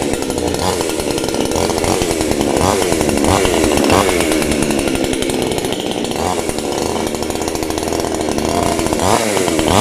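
A 22-inch chainsaw runs loud and steady throughout, its engine drone continuous with slight revving fluctuations and no voices over it.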